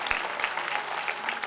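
Listeners at a Ram Katha religious discourse in Paithan, Maharashtra clapping together, a sustained, fairly soft patter of many hands with slight swells and no clear break.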